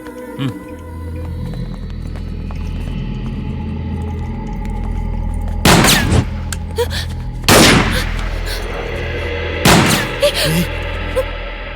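Three sharp, loud broadband bangs ring out a couple of seconds apart over a steady low hum and faint background voices.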